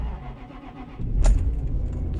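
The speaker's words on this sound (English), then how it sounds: "Let's pray the Jaguar starts." A Jaguar car engine cranks and catches around the middle of the clip, then settles into a steady, close idle rumble, with a brief metallic clink as it fires.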